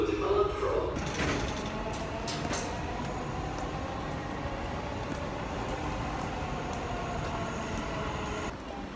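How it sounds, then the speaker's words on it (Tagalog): Train boarding in Dubai: a steady rumble of rail carriage and station noise fills the whole stretch, with a sliding-door sound near the start and faint voices in the background. "At sasakay na tayo ng train."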